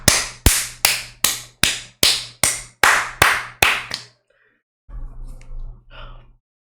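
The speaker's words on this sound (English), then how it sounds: "Everybody clap it up for Stephen A." Audience clapping at a political event, about ten sharp, evenly spaced claps in a steady rhythm, close and loud, followed by a brief pause and a softer scattered patter.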